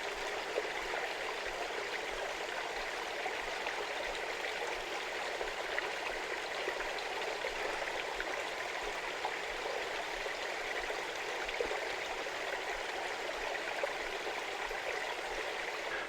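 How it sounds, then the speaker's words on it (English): A stream along a Cornish trail between Calstock and Cotehele Quay flows with a soft, steady babble and trickle. It sounds moderately close and stays even throughout, with no voices. "There's the lovely stream. Sound of water is always calming"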